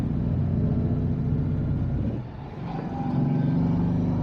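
A Citroen Ami8 small car drives in traffic, its engine giving a steady low rumble that dips briefly mid-way, as for a gear change, then picks back up; no voices.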